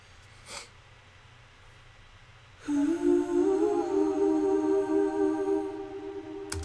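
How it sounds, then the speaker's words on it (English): A sustained wordless background vocal line enters after a quiet stretch in a pop song, holding and gliding over a steady backing as a counter melody answering the lead synth melody. "another kind of background vocal that kind of plays off the lead synth melody"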